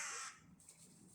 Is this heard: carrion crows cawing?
yes